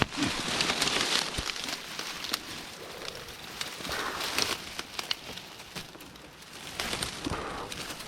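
Steady rain patters on a surface, a continuous hiss broken by scattered sharper drips and taps.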